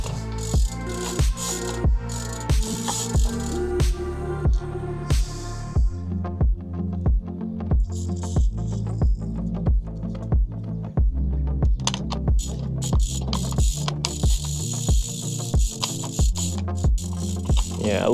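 Repeated ratcheting clicks and thuds as a bicycle pedal is turned backwards into a crank to clear its threads, a steady metallic rhythm at close range with a brief higher squeak midway.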